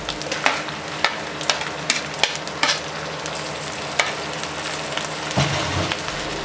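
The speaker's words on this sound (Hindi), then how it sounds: "हरी मिर्चों को अच्छे तरीके से फ्राई करेंगे।" Green chillies sizzle and fry in a pan with garlic and ginger already cooked, a steady crackling hiss with occasional sharp pops and stirring scrapes, close and fairly loud with no talking.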